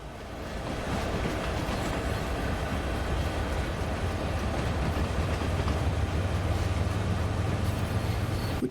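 A train rumbles steadily on Cajon Pass in Train Sim World, a dense continuous roar of wheels on rail with faint clatter and a low droning motor, loud and unbroken with no talking.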